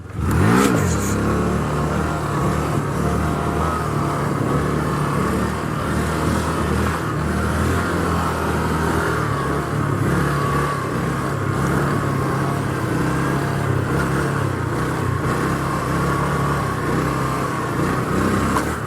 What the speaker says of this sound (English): step 1 is that technique of clutching the bike up, right? Clutch in, throttle, clutch out.